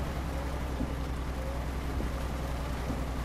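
Rain falls in the Euro Truck Simulator 2 driving game during a desert drive, a soft continuous hiss over a low steady rumble, with no voices.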